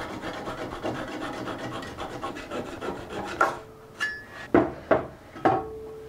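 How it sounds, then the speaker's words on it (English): Close, steady back-and-forth strokes of a hand saw cut through a reclaimed wood beam offcut, ending with several sharp knocks and clatters as the piece comes free, with no talking. "So I'm just gonna trim that off."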